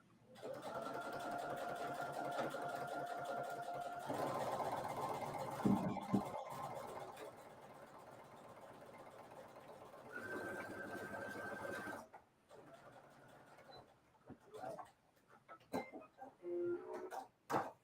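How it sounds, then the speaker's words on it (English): A Brother SE 1900 sewing machine runs a short quarter-inch seam with a back stitch, its rapid mechanical whirring coming in several close bursts separated by brief pauses and faint clicks. "And I have my Brother SE 1900 that I'm using. So I'm just going to briefly sew this."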